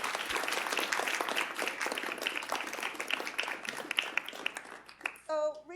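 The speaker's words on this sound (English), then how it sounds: "please join me in a round of applause to honor Dr. Davis" Crowd at a women's dinner event applauding to honor Dr. Davis, a sustained wash of clapping heard from a distance and fairly quiet, with a brief voice or tone near the end.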